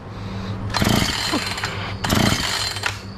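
Husqvarna chainsaw being choked and cranked as it refuses to start: two brief loud sputtering bursts of engine noise, each dying out after about a second, close to the listener.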